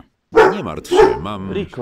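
A dog barks in the video game Gothic 2, with several short yapping barks and whimpers close up, mixed with a spoken voice.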